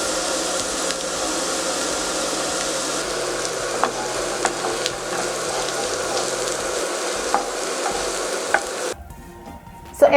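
Carrots frying in a hot pan with a steady sizzle and occasional scraping stirs, close and continuous, ending with a brief pause and a clatter, no talking.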